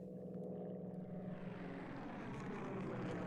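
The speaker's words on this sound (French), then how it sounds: "juste toi et ce merveilleux appareil qui ronronne à tes ordres" A propeller airplane drones steadily in flight, a continuous low engine hum with rising airflow noise, loud and close with no talk.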